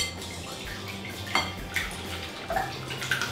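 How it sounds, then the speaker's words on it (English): Eggs whisked in a bowl for custard pie filling, metal utensil clinking and scraping against the bowl in several quick close strokes, no talk. "we're gonna go in with our eggs. We're gonna scramble these."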